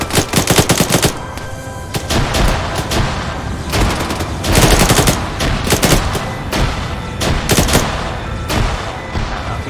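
Dense video-game gunfire in a Stargate firefight, rapid automatic bursts and single shots overlapping loudly and continuously throughout, with heavy booming reports and no talk.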